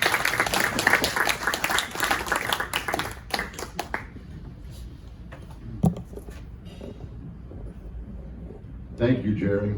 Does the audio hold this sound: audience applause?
yes